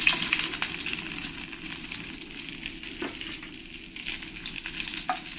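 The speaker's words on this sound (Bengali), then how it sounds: "এরকম একটু লাল লাল করে কড়া কড়া করেই ভেজে নিতে হবে।" Tilapia fish frying in hot oil, a steady bright sizzle with occasional soft stirring bumps, close and continuous without talk.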